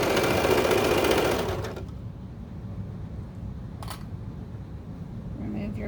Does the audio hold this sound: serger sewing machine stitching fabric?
yes